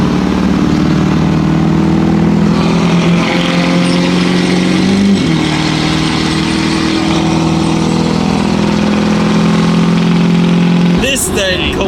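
The LB7 Duramax diesel pickup engine rumbles loud and close, holding a steady, rough drone throughout with a slight shift in pitch midway, and a short clatter near the end.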